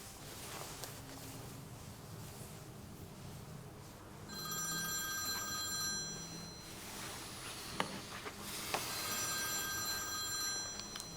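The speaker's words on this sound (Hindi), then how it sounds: "शबनम का फोन है।" A telephone rings with an incoming call in an indoor drama scene, repeated electronic bell trills in two bursts separated by a short pause, fairly quiet against a low background.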